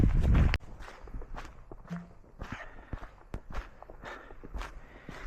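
Footsteps of a person out hiking crunch along a trail in a steady walking rhythm, close and fairly soft, after a brief loud rustle at the start.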